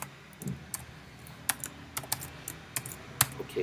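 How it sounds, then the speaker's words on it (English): Close-up typing on a computer keyboard while writing Python code, a sparse irregular series of crisp key clicks with short pauses between strokes, quiet room and no talking. "I'm in the habit of typing the curly braces"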